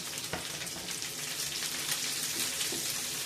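Onion going into browning food in a hot pan, a steady close sizzle and crackle of frying with a few sharper pops, no voices.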